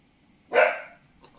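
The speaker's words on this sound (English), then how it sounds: "the dog's going mad. As soon as I start filming, he starts barking." A pet dog gives a single loud, close bark that rises sharply and fades out over about half a second, with near silence on either side.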